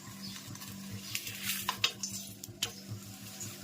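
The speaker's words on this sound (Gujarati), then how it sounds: "તળવાનું કામ ચાલુ છે" Thepla flatbreads fry in a hot pan in a home kitchen, giving a faint, soft sizzle beneath a low background hum, with a few sharp clinks and scrapes of utensils against the pan.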